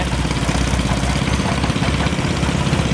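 An International lawn tractor towing a small trailer at a gas and steam engine show, its engine giving a steady, close, low drone with no pauses.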